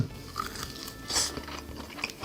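Close, wet chewing and biting on steamed pork back-rib meat pulled off the bone, with soft crunchy bites and a brief louder tearing crunch near the middle, no talking.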